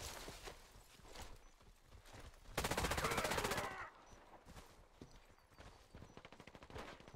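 Bursts of automatic gunfire from the STK CMCR rifle in the shooter game Warface, one sustained rapid volley in the middle flanked by shorter shots and clattering footsteps, fairly loud and close.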